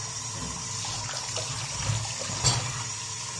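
Running water flushes grime out of a bathroom washbasin drain while it is scrubbed with a brush, a steady close splash and trickle with a brief louder splash near the end.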